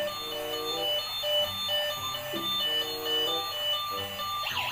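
Toy ambulance car playing an electronic siren-like melody, repeating tonal beeps at moderate, fairly faint level with small handling noises, no talk.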